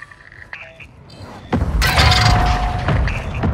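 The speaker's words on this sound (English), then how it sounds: "Mortar strike on the way." Mortar strike explosions in the Call of Duty video game: quieter battlefield sounds first, then a sudden loud blast followed by a dense, sustained rumbling roar with a lingering tone.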